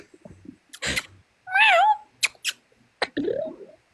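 A pet cat meows clearly several times, with a rising and falling meow standing out in the middle and shorter cries before and after, close and fairly loud against quiet background noises.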